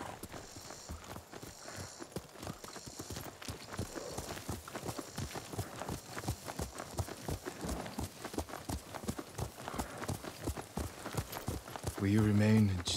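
Horse hooves clip-clop steadily at a walking pace in the samurai video game Ghost of Tsushima, a dense run of even hoofbeats mixed with game ambience and a brief musical swell at the end.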